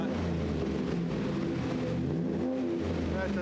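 A truck engine running just after being fired up in a garage, a continuous mellow, rumbling idle at moderate loudness.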